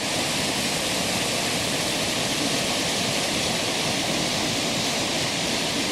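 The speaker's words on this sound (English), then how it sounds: "There's the Rapidan River down there." Rushing water of the Rapidan River in Shenandoah National Park, a steady, dense roar that stays broad and even from start to finish with no voices.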